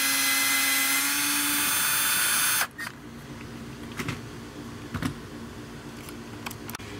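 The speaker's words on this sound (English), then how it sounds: "I'm using a Milwaukee electric screwdriver. It just makes it a little go a little quicker and easier." Milwaukee electric screwdriver removing screws from a Sea-Doo transducer mount: a steady high motor whir for under three seconds stops abruptly, followed by a few quiet clicks and taps, with no talking.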